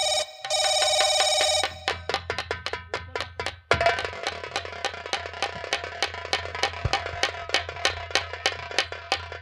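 A telephone rings in a staged Hindi nautanki play scene, first as a sustained electronic trill, then as rapid repeated bell-like pulses over a low hum, loud and without speech.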